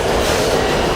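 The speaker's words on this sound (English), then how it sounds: "Well, here's my R train." A New York City subway R train pulls into the station with a loud, steady roar of wheels and motors, filling the platform with a dense, continuous rumble.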